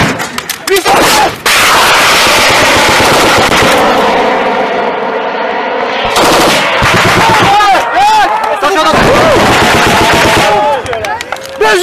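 Sustained heavy gunfire from French special forces near Raqqa, shooting at an ISIS kamikaze car bomb, with loud rapid bursts and single cracks that nearly fill the clip, mixed with shouted voices.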